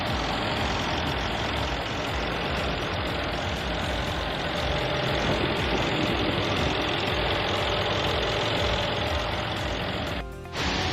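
Engine of a 2014 Mercedes-Benz E63 AMG-S running steadily at idle, loud and close with a constant rough hum and slight knock, cutting briefly near the end.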